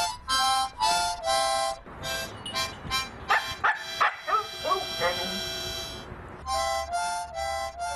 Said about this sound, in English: Huskies can bark or make sounds to communicate with their owners.